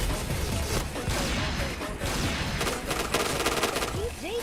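Video game gunfire with a headshot hit: dense, continuous bursts of shots and impacts crackle throughout, with brief rising whooshing tones near the end.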